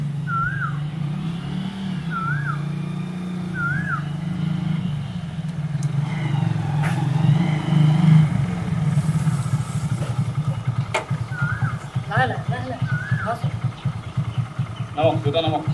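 A motorcycle engine runs steadily nearby for the whole stretch, a low continuous rumble with slight surges, while people talk over it at intervals.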